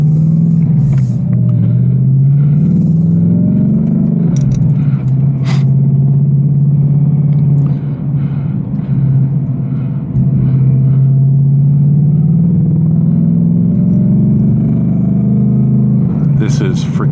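810-horsepower RTR Mustang GT cruising curvy back roads, its V8 a deep, loud, continuous rumble that swells and eases with throttle, punctuated by a few sharp pops, heard from close inside the car.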